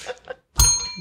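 A single bell rings with a bright, sustained metallic tone that follows a couple of short soft clinks, close and clear.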